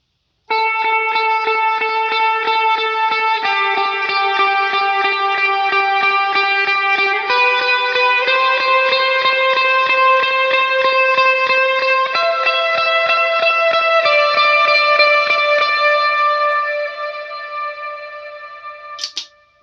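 Lead electric guitar riff for a song played through effects, with heavy delay, chorus and reverb giving sustained, ringing, overlapping notes that step between pitches, loud and alone before fading out.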